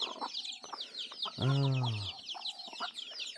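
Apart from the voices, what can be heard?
chickens clucking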